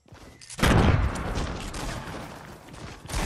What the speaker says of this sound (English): Wait, Pear, are you shooting?